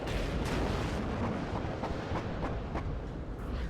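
Incoming artillery in WARNO: repeated booming impacts at a steady, irregular pace over a dense rumbling battle ambience, no voices.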